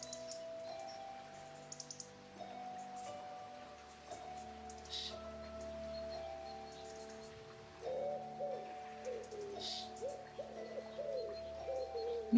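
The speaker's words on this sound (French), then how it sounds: "des chants d'oiseaux" Soft birdsong in a calm, peaceful natural setting, with cooing dove-like calls and scattered chirps over a faint, steady hiss of background ambience.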